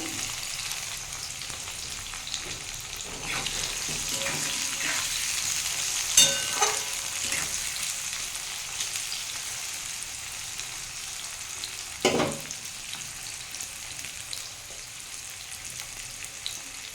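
Chopped bitter gourd and pointed gourd fry in a pan with a continuous close sizzle, broken by stirring scrapes and two sharper clatters of a spatula against the pan.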